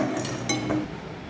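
Roasted coconut being scraped from a pan onto a plate, heard as a brief burst of close metallic clinks and rattling scrapes that stops abruptly.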